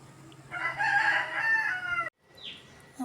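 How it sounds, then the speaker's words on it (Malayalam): A rooster crows once, fairly near and sustained for over a second, then cuts off; a faint bird chirp follows in the quiet. "കോഴി ഇങ്ങനെ കരഞ്ഞുകൊണ്ടിരിക്കുമ്പോൾ"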